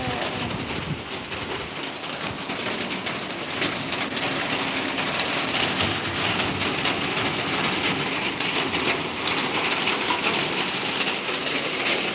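Heavy rain pours down in a steady, dense hiss that stays loud and constant from start to finish, with no voices over it.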